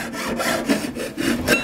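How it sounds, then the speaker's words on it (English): A jeweler's saw cuts metal plate, rasping back and forth in quick, regular strokes, each pass a bright scraping sound, close up and alone. "And as I'm sawing"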